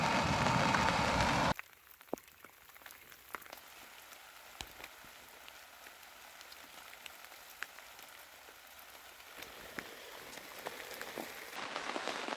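Rain on a tarp at a late-fall canoe campsite during a rainstorm: a brief burst of loud rushing noise at the start, then quieter steady patter with scattered sharp drips tapping close by.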